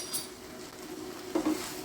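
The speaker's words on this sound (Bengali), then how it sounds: "এবার আমি মাছগুলো দিয়ে দিচ্ছি এতে।" Bhetki fish pieces go into a spiced pan and are stirred, giving a soft sizzle under a brief scrape and clink of a utensil. Short, close and fairly quiet.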